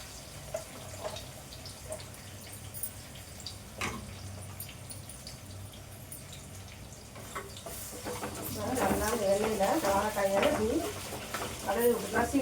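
Raw plantain pieces cooking in oil in a kadai, giving a soft sizzle and stirring scrapes that swell into louder, busier frying toward the end.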